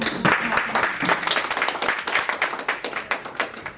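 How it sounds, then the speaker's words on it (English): Applause from an audience at a property-data training session, steady clapping from many hands throughout with some louder individual claps standing out. "Guys, let's give Zelda a round of applause."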